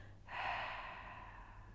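A single long, soft exhale during a restorative yoga practice, heard close and quiet as a breathy rush of air that starts suddenly and fades gradually.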